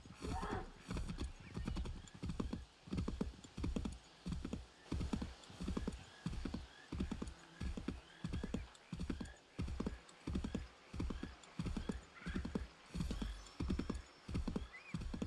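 A horse gallops in Assassin's Creed 3 Remastered, steady rhythmic hoofbeats pounding close and loud for the whole stretch, with a brief whinny and faint game ambience, no voice on top.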